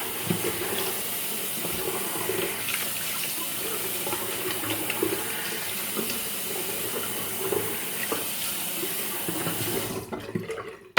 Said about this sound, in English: right now I'm rinsing the lather off my face